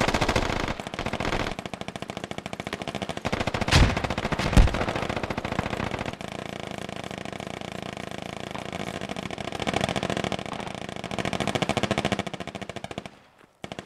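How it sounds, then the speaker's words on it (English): Sustained automatic gunfire in Arma-style military game combat in Kokan Valley, loud bursts rattling continuously with engine rumble beneath, sharper shots near four to five seconds, fading out at the end. "Are they actually shooting at something or just celebrating?"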